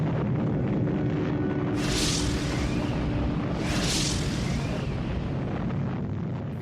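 A nuclear weapon test detonation from an old test film, a sustained deep roaring rumble with two surging blasts of noise, loud and continuous.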